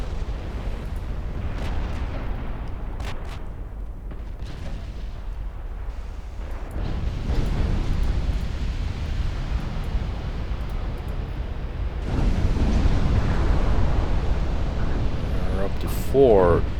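Torpedo hits and explosions in the naval battle game Ultimate Admiral Dreadnoughts, a loud sustained rumble of booms and surging blasts that swells in two stages, with someone talking over it.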